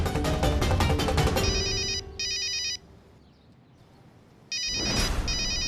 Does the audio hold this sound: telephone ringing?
yes